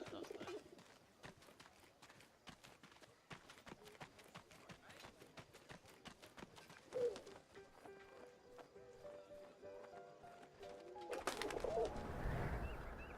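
In a video game, a pigeon coos softly among rhythmic footstep-like clip-clops, then a rising flutter of wingbeats near the end, all faint with a brief voice.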